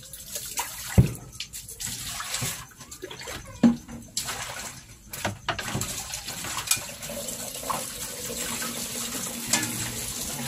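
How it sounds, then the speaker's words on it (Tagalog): Running tap water splashes over a pot lid being washed in a kitchen sink, an uneven close stream with clanks and knocks of the lid against the basin. "Tapos, hugasan natin yung takip."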